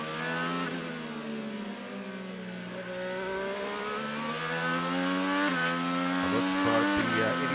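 Onboard an IndyCar driven by Simon Pagenaud on the Indianapolis Motor Speedway road course, a loud high-pitched engine holds steady and then climbs through rising revs with quick gear shifts near the end, with faint talk underneath.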